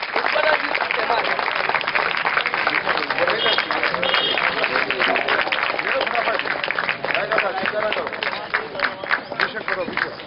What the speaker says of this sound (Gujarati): આપણે તાળીઓથી વધાવી લઈશું